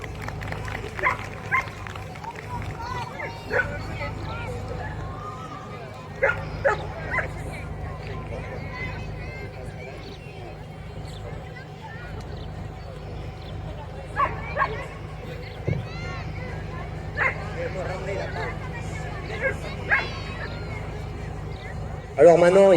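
A trained dog at a canine sport demonstration gives scattered short barks and yips amid crowd murmur and a voice talking, with applause-like noise near the end.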